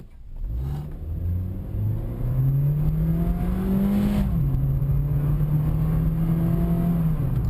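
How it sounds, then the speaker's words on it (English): A 2008 Honda Fit base model accelerates hard from a standstill toward 60 mph, its small engine droning and revving higher, then shifting gear and pulling steadily again. The engine sound is heard from inside the car with no talk. "Now this car does in fact do 0 to 60 eventually, as we shall now attempt."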